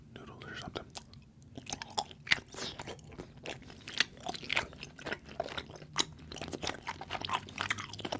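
Close, wet chewing and crunchy bites of spicy Korean rice cake noodles from street food, with irregular smacking and a few sharp crunch peaks, no talking over it.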